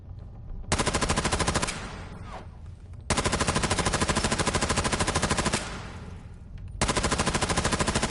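Video-game gunfire aimed at a mannequin: three long bursts of rapid automatic fire, loud and close, separated by short pauses with faint clatter and no talk.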